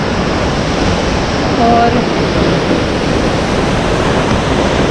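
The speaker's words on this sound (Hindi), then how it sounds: "यहाँ पर एक ही वाटरफॉल है" Rushing waterfall in Badrinath, a steady loud broadband roar of falling water filling the whole stretch, with a brief voice heard faintly under it.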